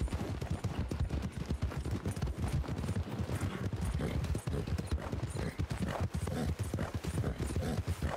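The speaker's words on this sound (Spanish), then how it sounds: "galopa hasta que se te muera el caballo" A horse gallops steadily through the snow in the RedM roleplay game. Fast, loud hoofbeats clip-clop without a break from start to end, with faint crackling bursts in the background.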